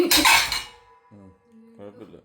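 A short burst of dishes clattering together, followed by softer tonal sounds and a faint voice.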